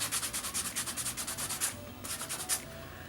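Quiet, rhythmic rubbing strokes of fine grit sandpaper on a fingerboard scrub back and forth in quick succession, with a few short pauses.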